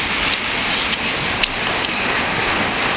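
Steady hiss of rain falling, with a few louder drips or ticks standing out now and then; no voices.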